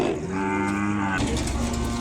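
Ongole calves at the Kodad cattle market low close by: one long, drawn-out moo, then a second lower call right after it, loud and clear with no talk over them.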